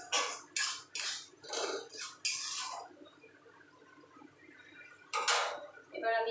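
Food being stirred in oil in a pan, a string of scraping, clinking strokes from the spoon against the pan, followed by a quieter stretch and a few more scrapes.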